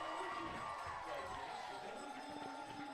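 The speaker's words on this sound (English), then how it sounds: "What did they just announce? The whole crowd went crazy." Crowd at a high school football playoff game roars and cheers in a steady, dense wash of voices, loud and sustained throughout.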